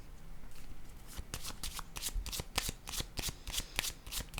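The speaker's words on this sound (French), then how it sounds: "Là, je vais déposer une carte sur ces deux-là." Tarot cards are shuffled and handled in quick sharp bursts of riffling and snapping, close and fairly quiet, with rapid irregular flicks throughout.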